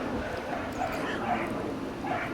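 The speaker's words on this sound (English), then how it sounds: "My dog is playing." A dog barks and yips in short bursts while playing outdoors, fairly close and steady in level, mixed with general background noise.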